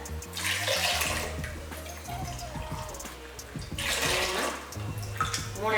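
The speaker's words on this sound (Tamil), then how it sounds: "இதில் கால் டம்ளர் அளவுக்கு தண்ணி ஊற்றிக்கோங்க" Water poured from a tumbler into a cooking vessel on the stove, a steady close pour that swells and eases over several seconds, with faint kitchen clatter beneath.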